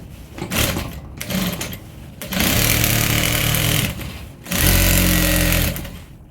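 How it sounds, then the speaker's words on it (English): A sewing machine stitches fabric for an African print tote bag with zip and lining, running loudly in two sustained bursts with short pauses and lighter handling noise before them. "I'm just going to take it like this and take it to the sewing machine."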